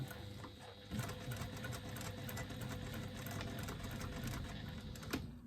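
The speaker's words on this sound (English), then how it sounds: "I'm going to stop my stitching 1/4 of an inch from the top of my" Domestic sewing machine stitching the lining gusset of a sewn item, a steady mechanical whirring hum running close and continuous, ending with a brief louder clack near the finish.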